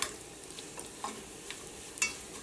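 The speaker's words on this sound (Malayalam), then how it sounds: "ഇത് ഇളക്കുമ്പോൾ തന്നെ നല്ലൊരു സൗണ്ട് വരുന്നില്ലേ മുരിഞ്ഞതിൻ്റെ." Ginger fried in coconut oil for puli inji is stirred with a spoon, giving quiet scraping strokes and a few soft taps over a faint sizzle.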